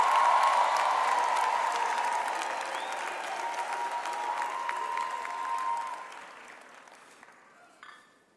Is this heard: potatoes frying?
no